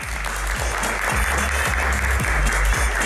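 Loud, sustained applause from a studio audience welcoming racing driver guest Rifat Sungkar, dense clapping throughout over a pulsing low musical beat.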